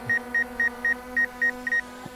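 Seven short electronic beeps from a DJI Mavic Air 2S drone in an even rhythm, each a clean high tone, with a steady low hum underneath and no talking.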